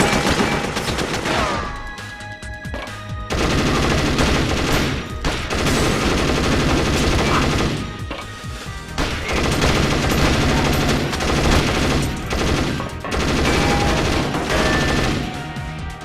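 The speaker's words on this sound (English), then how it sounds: "this is the reason I brought the scoped submachine gun" Scoped submachine gun in the shooter Perfect Dark Zero fires in sustained loud bursts through most of the stretch, with short lulls between volleys amid dense game-battle noise and no voices.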